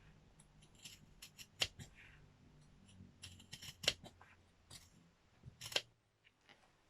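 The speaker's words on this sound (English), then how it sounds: "We're cutting through both the pocket bag and the back piece." Scissors snip through a jogger pocket bag and back piece together, giving a handful of sharp, irregular crunching cuts, close but quiet, separated by soft handling noise.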